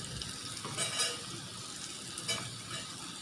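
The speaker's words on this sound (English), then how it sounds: "Now let's add our chopped 3 large potatoes in it." Chopped potatoes, three large ones, tumble into a hot pan and sizzle with a steady, soft frying hiss, with a few faint stirring scrapes and no talk.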